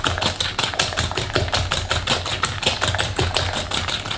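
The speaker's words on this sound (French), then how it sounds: "Et on commence tout simplement à mélanger nos œufs et le sucre." Eggs and sugar being mixed in a bowl for a quick raspberry cake, a steady fast rhythmic clatter of whisking against the bowl, close and continuous with no talk.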